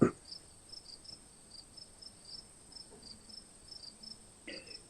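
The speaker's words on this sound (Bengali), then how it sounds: "আর ঝিঝি পোকার ডাক" Crickets chirp at night in a quiet outdoor setting, a faint, regular pulsing trill repeating steadily throughout, with a short knock-like sound at the very start.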